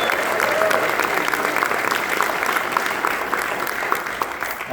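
Applause and cheering from a comedy club audience, steady dense clapping that stays loud throughout before easing slightly at the end.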